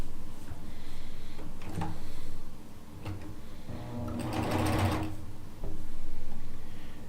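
A sewing machine stitches quilt pieces together in short runs, its rapid mechanical whirr starting and stopping with brief pauses between bursts, heard close and alone.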